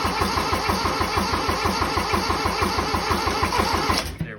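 A Kubota G6200 tractor diesel engine with a turbo cranks steadily in a fast, even rhythm, close and loud, on the edge of catching after injector bleeding, then cuts off abruptly near the end.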